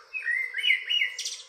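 A mimid, a songbird that imitates other birds, gives a clear close series of varied whistled chirps ending in a higher trill, recorded in the Guatemalan highlands.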